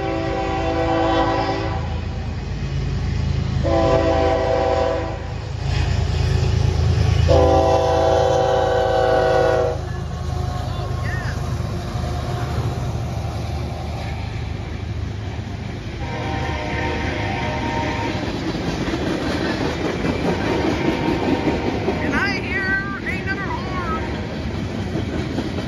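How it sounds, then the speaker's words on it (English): A train rumbles past 4th Street in Chesterton, Indiana, with several long, loud horn blasts in bursts, followed by the steady clatter and roar of rail cars rolling by close up. "We might actually have more than one train coming"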